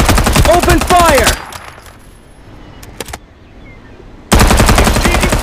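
Gunfire in the video game Farlight 84, loud rapid machine-gun bursts at the start and again at the end, with a quieter stretch between that holds a few faint clicks.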